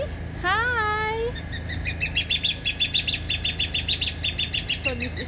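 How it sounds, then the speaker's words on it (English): Eastern Crested Guinea Fowl calling in a bird sanctuary aviary at Mandai: a drawn-out, wavering whistled note, then a fast, steady series of sharp chirping cackles, fairly close and clear over low background noise. "So this is the Guinea Fowl."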